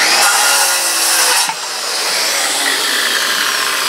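A power saw whines loudly and steadily as it cuts through wood, with a brief dip partway through before the buzzing resumes.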